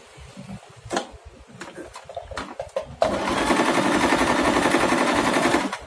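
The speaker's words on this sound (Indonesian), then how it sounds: "Contoh, misalkan ini siksak, terus kalau ininya di nol, hasil jahitan pasti lurus karena nggak ada kelebarannya." A Singer portable sewing machine clicks through a few slow, separate stitches, then runs continuously with a fast, even, rhythmic chatter while sewing a zigzag, close and loud.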